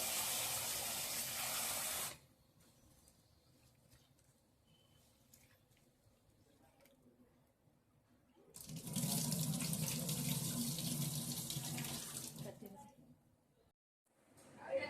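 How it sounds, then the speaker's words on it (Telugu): Produce, apparently, rinsed repeatedly under a running kitchen tap for homemade ubtan (ugg) preparation; loud broadband gushing water fills the start and again the middle, with quieter handling sounds between. "చూడండి ఇవన్నీ బాగా వాష్ చేసుకోవాలండి, 2 to 3 టైమ్స్ వాష్ చేసుకోవాలి"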